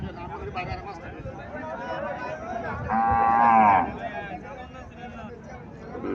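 A single loud cow moo rises out of a busy outdoor cattle market where Haryana cows and calves are sold, with people talking around it before and after.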